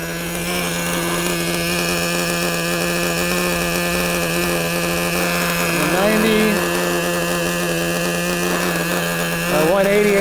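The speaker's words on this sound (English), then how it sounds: "Let's let it sit there and idle for a little bit." A Traxxas Revo 3.3 RC nitro monster truck engine idles, a loud, close, buzzing drone that holds steady for the whole stretch and swells slightly twice as the revs rise briefly.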